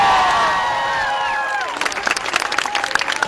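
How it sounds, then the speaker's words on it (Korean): A crowd of university students in Kazakhstan claps and cheers enthusiastically, with a burst of applause rising after a loud tonal sweep fades, fairly close and lively. "학생들의 뜨거운 환호"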